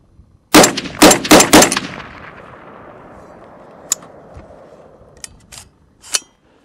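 A CMMG Mk47 rifle fires four loud, sharp shots in quick succession outdoors, each with a trailing echo, followed by a few fainter distant reports and clicks.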